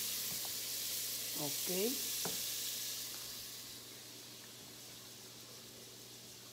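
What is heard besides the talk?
garlic frying in a pan for arroz caldo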